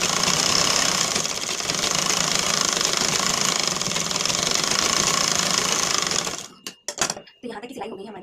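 A sewing machine runs fast and steadily stitching a lined blouse, its rapid mechanical chatter loud and close for about six seconds before stopping abruptly, followed by a few handling knocks.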